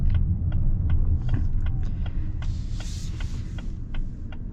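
A 2024 Lincoln Nautilus Hybrid drives along with a steady low road rumble inside the cabin, broken by light ticking and clicking sounds and a brief airy hiss partway through.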